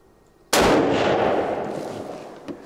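A single loud rifle shot from a Model 70 Winchester firing a .270 Winchester handload with interlock bullets, a sharp crack followed by a long, fading rumble and echo outdoors, with no talk.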